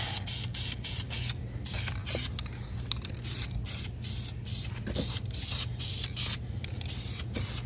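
Rapid bursts of aerosol spray paint hissing onto the barrels of Redline wheels from a 2004 Saturn VUE, close and loud, with short gaps between passes and no talking.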